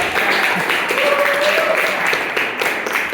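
An audience claps in a dense, steady wash of applause, loud and continuous throughout, with a voice faintly audible underneath.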